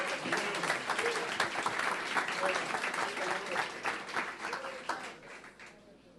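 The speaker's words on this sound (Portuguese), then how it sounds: "Pode aplaudir com vontade." A church congregation applauding during a sermon: dense, sustained clapping from many hands, fairly distant and steady, easing slightly toward the end.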